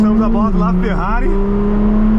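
A Ferrari LaFerrari V12 engine hums steadily at low revs, the pitch briefly rising and falling as it's blipped, close and continuous throughout.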